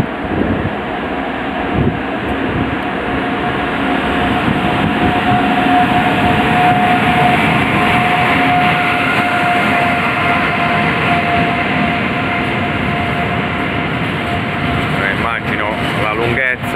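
Freight train passing through the station at Foggia, a long continuous rumble and rolling clatter held at steady loudness, with wind buffeting the microphone and a voice now and then.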